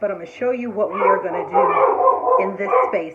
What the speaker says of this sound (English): And excuse my dogs, they're barking